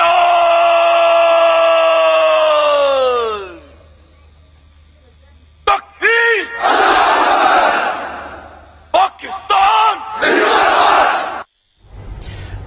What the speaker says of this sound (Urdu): یوم پاکستان پر مسلح افواج کی جانب سے اللہ اکبر کے بلند آواز میں نعرے بھی لگائے گئے